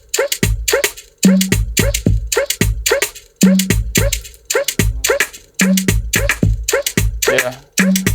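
A beat of drums with a reverb-soaked, EQ-processed vocal in an Afrobeats studio session, punchy rhythmic hits repeating steadily for several bars with short vocal stabs between them, loud and upfront without talking.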